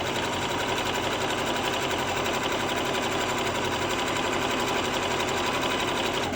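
A sewing machine runs steadily through folded fabric with the presser foot lowered, a continuous close, loud mechanical whirr with rapid needle chatter and no talking.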